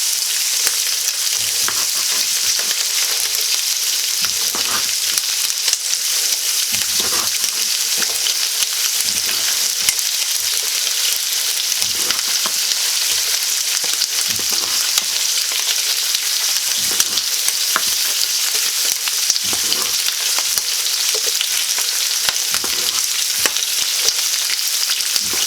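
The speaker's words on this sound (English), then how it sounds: "throw it in the pot and let it heat up for just a little bit" Smoked sausage heats in a pot with a steady, close, continuous sizzle and faint crackles throughout, with no talking.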